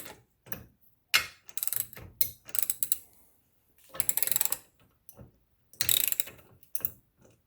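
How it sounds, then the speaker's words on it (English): A hand ratchet tightens down a 20-ton shop press in a series of short, close clicking bursts separated by brief pauses. "you can come in with just a regular ratchet and ratchet this thing down"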